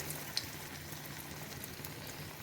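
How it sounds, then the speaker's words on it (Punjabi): Potato and rice flour tikkis shallow frying in hot oil, a soft, steady sizzle with faint crackles and one brief sharp pop near the start, quiet and without voices. "ਤੇਲ ਆਪਣਾ ਗਰਮ ਹੋ ਚੁੱਕਾ ਹੈ ਹੁਣ ਟਿੱਕੀਆਂ ਨੂੰ ਇਸ ਵਿੱਚ ਪਾਵਾਂਗੇ"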